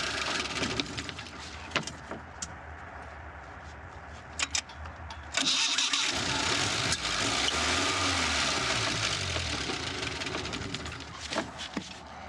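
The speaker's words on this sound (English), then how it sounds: "The engine keeps hesitating before firing up" An old Coca-Cola truck engine, abandoned for 40 years, cranks and churns unevenly, stalling and catching in rough bursts with a few sharp knocks, then settles into a ragged, struggling run.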